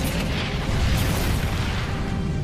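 A deep, sustained rumbling blast from an area bomb in a Voltes V: Legacy trailer. It is loud, continuous and bass-heavy, with no speech over it.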